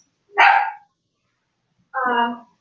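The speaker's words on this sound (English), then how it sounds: "So that was my puppy." A puppy gives two separate barks about a second and a half apart, close and clear with silence between them and no talk.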